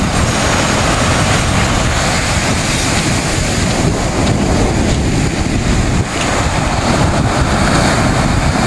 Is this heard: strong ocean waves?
yes